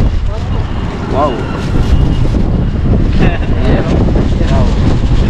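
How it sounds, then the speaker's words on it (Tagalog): Strong wind buffets the microphone at sea in a loud, constant roar with gusty swells, while a few short whistling cries rise faintly through it. "Lakas ng hangin"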